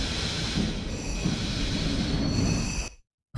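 A railcar in the video game Diesel Railcar Simulator brakes slowly, giving a continuous rolling rumble with a faint steady squeal before cutting to silence.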